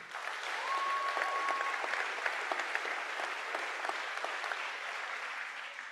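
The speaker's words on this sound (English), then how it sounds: "please give yourselves a round of applause" Graduating high school students applaud themselves at a 2024 commencement ceremony, a broad, sustained roar of many hands heard from a slight distance, with a brief whistle-like tone near the start.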